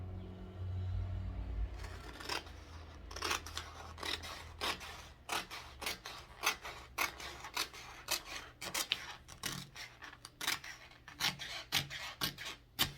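Scissors cutting through sheet material for a handmade Christmas candle wrap, a run of repeated close, crisp snips and rasps with a low rumble at the start.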